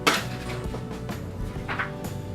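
A s'mores mixture is scraped into a pan with a utensil, making a few soft metallic clinks and scrapes against cookware, fairly close, with no talking.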